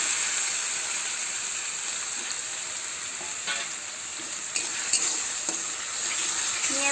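Chopped tomato with onion paste fries in a pan for chana masala, making a steady close sizzle, while a utensil stirs and scrapes with a few light metallic clicks.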